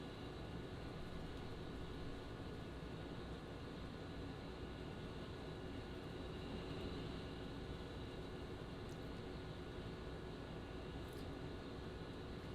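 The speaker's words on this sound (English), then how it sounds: "So we're going to be taxiing to the runway, but we need to request permission once we're there." An A-10C Warthog ground-attack jet taxis toward its assigned runway in a flight simulation, a steady, loud, unbroken engine roar and whine that holds the same level throughout with no speech.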